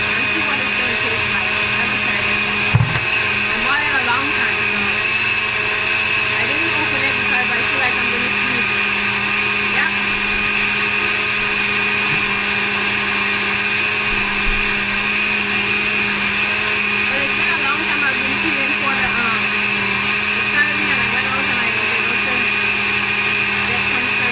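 A blender whirs steadily while making a smoothie, a constant motor drone with a high whine that holds for the whole stretch as someone talks over it.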